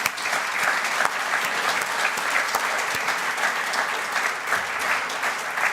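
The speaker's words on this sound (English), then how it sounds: "I think we should give them a round of applause" Sustained applause from a conference audience, steady and dense throughout, with no talking over it.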